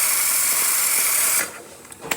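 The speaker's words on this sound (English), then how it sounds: "Excellent steam, really great temperature," A Gaggia Accademia espresso machine, recently fitted with a new pump, releases a loud, close, steady hiss of steam for about a second and a half, then cuts off, leaving a few faint clicks.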